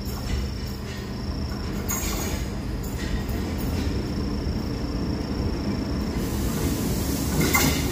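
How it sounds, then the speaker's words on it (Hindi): Diesel train rolling past on an Indian line near Bathinda, Firozpur and Ludhiana, a steady loud rumble with rail clatter and wheel noise throughout, swelling slightly near the end. "good to C diesels are rolling here"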